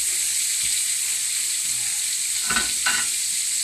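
Sausage frying in a hot pan, heard as a steady close sizzle with a couple of brief stirring or scraping sounds near the end.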